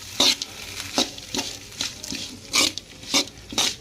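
Cooked rice and egg are stirred in a hot pan, giving about eight rhythmic scraping strokes over a soft sizzle, close and without talk.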